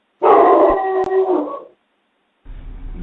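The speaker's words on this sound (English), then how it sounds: "I can hear the dogs barking in the back of the ring camera." Dogs heard behind a home security camera let out a loud, drawn-out howl that breaks up, followed after a short silence by fainter barking and rumbling noise.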